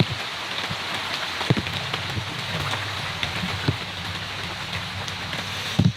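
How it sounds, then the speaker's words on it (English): Water drips steadily from the Amazon rainforest canopy after rain, a dense patter on leaves and ground with occasional louder single drops, close and continuous. "The rain stopped. It's just water coming off the canopy at this point."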